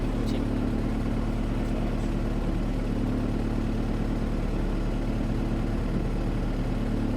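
A Honda CR-V fitted with a B20 VTEC engine, all-wheel drive and tuned on a Hondata S300, idles steadily with a low, even hum; a faint intermittent voice is heard under the engine.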